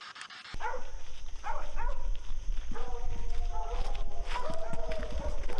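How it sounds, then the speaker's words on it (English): Several dogs barking and panting excitedly in a marsh, with steady bark-like bursts and footsteps over a continuous loud background, mixed with people talking. "Those dogs are going crazy."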